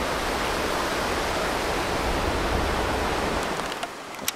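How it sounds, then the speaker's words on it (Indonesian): A gurgling river flows right beside an open-air diner in Aceh Besar, a steady, close, broadband rush of water that runs alone without any voices. "Makan siang dengan suara gemercik sungai seperti ini"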